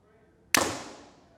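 An arrow is shot from a 2022 Hoyt Ventum Pro compound bow, a single sharp, fairly quiet release snap that decays into a brief ringing hum, alone and close.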